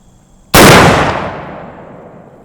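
A single loud, close gunshot from a Lyman Plains Pistol in .50 caliber, a sharp blast followed by a long decaying boom that fades over about two seconds.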